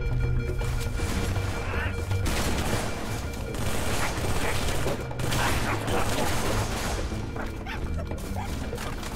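Dual-wielded SMGs firing in Halo 3, dense rapid bursts of automatic gunfire with short pauses between strings, loud and continuous alongside game effects.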